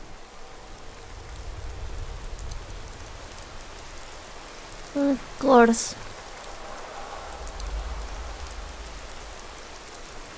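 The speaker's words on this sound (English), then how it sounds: "And it's raining." Steady rain hiss falls in the video game Skyrim, a soft continuous wash across the whole stretch, with a person briefly speaking over it midway.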